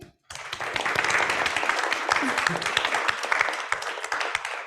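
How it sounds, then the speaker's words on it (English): Audience applause at a university innovation event, a sudden burst of clapping that stays steady and fairly close, with some voices mixed in. "Round of applause, everybody."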